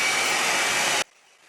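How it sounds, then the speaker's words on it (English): A hair dryer set to medium heat blows on a human hair topper, a loud, steady close-up rush of air that stops abruptly after about a second, leaving faint room hiss. "I've got my hairdryer and I'm going to set her on a medium heat"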